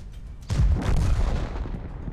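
Artillery in World of Tanks lands a single heavy, booming impact that swells suddenly and rolls off slowly, alone without speech.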